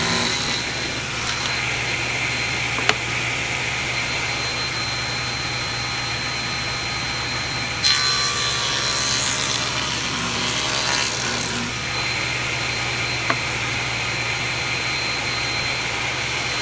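A saw works steadily through the edge of a wooden door to trim a little off, giving a continuous close rasping hiss with a few brief knocks and no talk.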